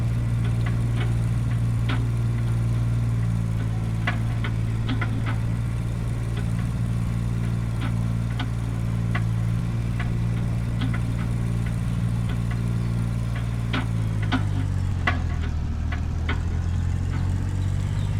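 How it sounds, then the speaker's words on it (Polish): A tractor engine in Farming Simulator 25 runs steadily for a long stretch, with a loud, constant low droning hum and faint clicks. It dips in pitch near the end as the engine eases off, with no voices. "nie do końca podoba mi się dźwięk tego traktora"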